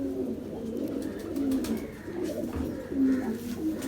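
Pigeons coo steadily at close range, their low throaty calls overlapping and repeating without pause and with no voices over them.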